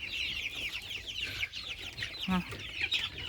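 Young chicks cluck and squawk at a feeder in a busy, overlapping chatter, with short agitated calls and one low cluck, fairly close.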